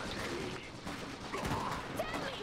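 Gunfire from the real-time strategy video game Iron Harvest: a dense, continuous crackle of distant shots and small blasts layered in a busy battle mix.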